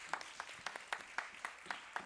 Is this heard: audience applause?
yes